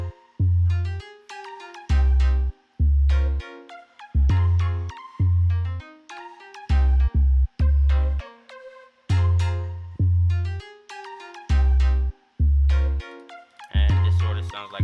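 A hip hop beat section built in FL Studio, with booming 808 bass hits and kick drums under a bright melodic synth line in a choppy, stop-start rhythm, loud and with no voices.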